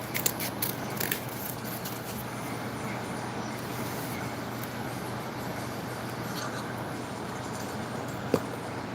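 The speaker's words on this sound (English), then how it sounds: "A couple of small snips, and we'll have the same size on that side too also." Scissors snip cardboard for a small crooked model medieval house: a few quick, close cuts early on and one sharp click near the end, over a steady low background hum.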